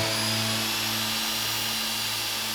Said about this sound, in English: To get this steep angle, I was using my bandsaw along with the guide that comes with